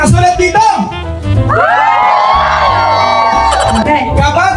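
A family group at a game-show style event shouts and cheers together, loud and close, with whoops and overlapping voices rising into a sustained collective yell.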